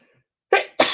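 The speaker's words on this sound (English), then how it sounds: "Bit of a sneeze." A person sneezes indoors during a card-stamping craft session: two sharp, loud bursts close to the mic, about a quarter second apart, after a quiet pause.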